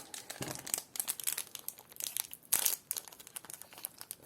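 Crinkling and tearing of a Pokémon booster pack wrapper as it is worked open by hand, close crackly rustles with a sharper rip partway through, no talking.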